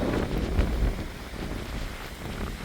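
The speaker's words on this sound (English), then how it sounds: "A little breezy out here." Wind blowing across an open mountain trail in the Grayson Highlands on the Appalachian Trail, a steady low rushing gust with some microphone buffeting, moderately loud and unbroken, no talking.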